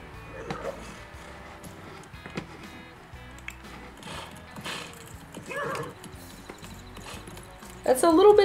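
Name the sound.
horse hooves on a trail ride, The Sims 4 Horse Ranch video game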